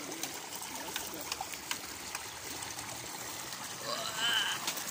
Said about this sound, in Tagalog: Uy, maraming tubig.